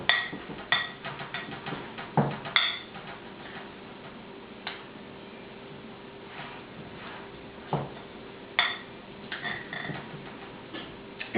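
Cream cheese and gorgonzola are mixed in a bowl, with bursts of rapid ticking clinks from a utensil against the bowl, pausing into quieter stretches before resuming, close and without talk.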